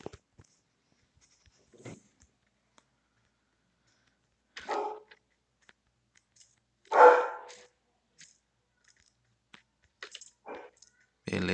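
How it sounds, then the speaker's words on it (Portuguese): Scattered dog barks sound at a distance during a mobile battle-royale shooter session: sparse, faint yelps with one louder bark in the middle and a few quieter ones toward the end. "Ô, desgrama de um cachorro,"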